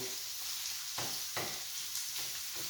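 Sausage, basil and sun-dried tomatoes sizzling in a pan, a constant bright hiss broken by a few bursts of stirring or scraping, close and clear with no speech.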